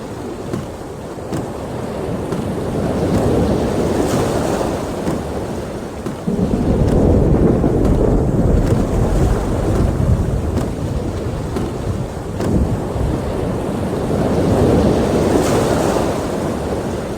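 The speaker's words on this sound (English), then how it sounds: "The storm is closing in." A video-game storm at sea, set in The Longest Journey, roars steadily with loud wind, rain and breaking waves, joined by heavy rolling thunder that swells midway, with no voices.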